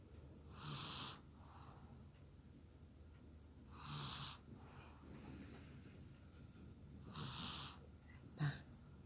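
A sleeping baby snores softly nearby, three slow rhythmic breathy snores spaced a few seconds apart, followed by a short snort, in an otherwise quiet room.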